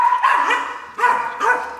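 Dogs barking in a few short bursts, loud and close, with yipping edges to the barks.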